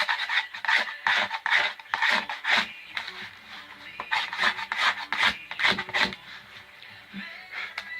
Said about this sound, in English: So you can take a knife, scrape it off.